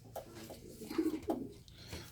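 Low, soft cooing from young pigeons in a loft comes in a few short rolling phrases, close but quiet against faint background noise.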